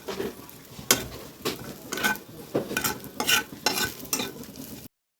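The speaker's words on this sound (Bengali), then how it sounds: "এবার আমরা পেঁয়াজটা দিয়ে দিচ্ছি তেলের মধ্যে। পেঁয়াজটাকে আমরা লাল লাল করে ভেজে নেব।" Onions frying in oil in a wok, with a steady sizzle broken by repeated sharp scrapes and clatters from stirring, close and loud with no talking.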